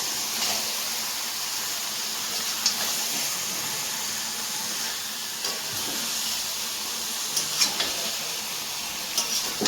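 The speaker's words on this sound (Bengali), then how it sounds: "এখন আমি এর মধ্যে দেব হচ্ছে মাংসটা এটাকে এবার খুব ভালো করে কষাতে হবে" Duck meat being stir-fried in a pan, a steady sizzling hiss with occasional scraping stirs, alone and continuous.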